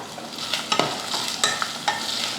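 Ginger garlic paste, mint, coriander and green chillies are sautéed in a pan, with a soft continuous sizzle broken by several crisp spatula scrapes and taps.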